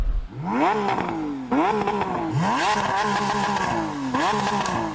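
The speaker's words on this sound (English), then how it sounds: "Rev up your beautiful V12." A Lamborghini SVJ's V12 engine revving hard before a drag race against a BMW M5 CS, three or four rising howls that climb and drop back in quick succession, loud and close.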